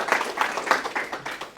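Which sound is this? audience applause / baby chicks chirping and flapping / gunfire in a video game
audience applause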